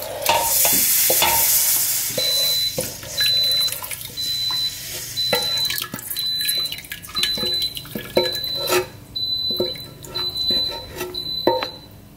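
Dark roux is poured into a pot of chicken stock and stirred, giving a soft sizzle and liquid swirling with repeated spoon clinks against the pot.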